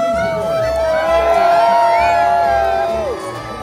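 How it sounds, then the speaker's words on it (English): A large crowd at a Lions Club ball run in Ireland cheers and whoops loudly, a sustained roar of many voices with shrill shouts rising over it and continuing throughout. "Give me a cheer if you've been at a Lions Club Ballrun before"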